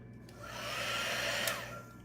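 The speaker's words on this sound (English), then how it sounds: "with a heat gun." A heat gun used to warm hard wax for jewelry repair blows a steady, airy whoosh that swells and then fades over about two seconds, quiet and alone.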